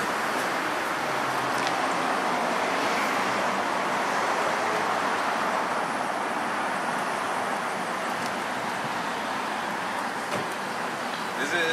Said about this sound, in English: There's a bunch of traffic right here.